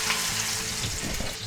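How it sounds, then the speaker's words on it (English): A seasoned chuck eye steak sears in hot bacon fat in a pan, a loud, continuous sizzle and crackle heard up close without any talk. "Now we're going to take our delicious looking chuck-eye steak that we seasoned up, and we're going to put that right in there,"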